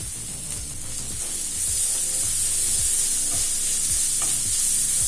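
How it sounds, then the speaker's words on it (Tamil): Onion and grated carrot sizzle in a pan for aval upma, a steady frying hiss with soft stirring scrapes throughout. "இப்ப கேரட் சேர்த்துட்டு நல்லா வதக்கியாச்சுங்க."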